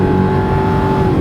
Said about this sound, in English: There's our kickdown.